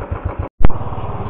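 A Royal Enfield motorcycle engine revs with a steady low pulsing idle, cuts briefly, then roars back with a loud burst and settles into a rhythmic thumping as the bike pulls away, close and alone.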